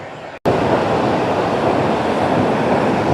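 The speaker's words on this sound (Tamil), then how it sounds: "தண்ணி எப்படி ஆர்ப்பரிச்சு போயிட்டுருக்கு பாருங்க." Loud, steady roar of a rushing mountain stream on a rugged Pothigai hills trek, broadband water noise filling the whole clip after a brief cut near the start, no voices.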